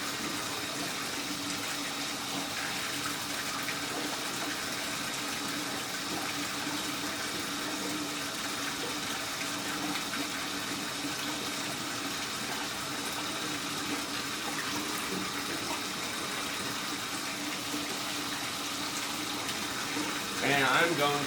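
Water gushes steadily from a tub faucet into a bathtub being refilled while unclogging a shower and tub drain, a constant loud rushing wash that runs the whole time, with a brief louder splash near the end.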